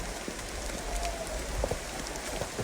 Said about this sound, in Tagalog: Malakas tubig yan.